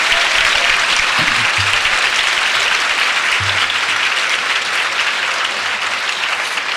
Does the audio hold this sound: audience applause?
yes